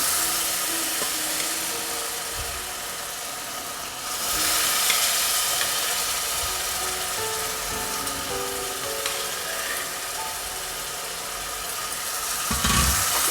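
Mutton pieces frying in a hot pan for a spicy mutton curry, giving a loud, steady sizzle that runs throughout, with occasional stirring scrapes and no talking.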